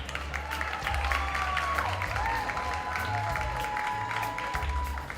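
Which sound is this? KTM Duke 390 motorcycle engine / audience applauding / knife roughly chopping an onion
audience applauding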